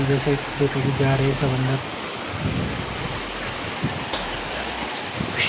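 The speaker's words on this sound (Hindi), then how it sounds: "काफ़ी स्पीड में बारिश आ रही है" Heavy rain pours steadily with a broad rushing hiss, and someone speaks briefly in Hindi at the start.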